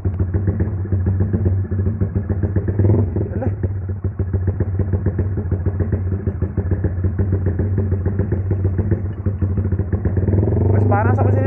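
A motorcycle fitted with a Juken 5 exhaust idles with a hot engine, a loud steady low throb with rapid pulsing beats throughout, and a voice speaks over it.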